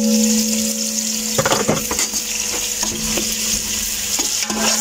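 Large onions frying in oil for chicken degi biryani, a continuous loud sizzle with bursts of stirring and spatula scraping against the pot, plus a steady hum behind it, no talking.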